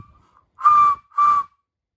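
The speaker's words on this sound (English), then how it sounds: "So that sounds like a whistle, isn't it?" A small 3D-printed whistle blown twice in short bursts, a clear shrill tone with a breathy edge, each blast under a second, close by.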